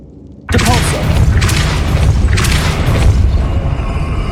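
A Depulso spell blast in the Hogwarts Legacy video game hits with a sudden loud boom, then a sustained roaring rumble that swells a couple more times before fading slightly.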